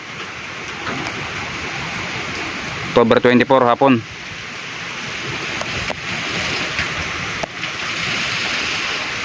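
Steady roar of strong wind with heavy rain, broadband and constant, briefly interrupted by a short burst of speech.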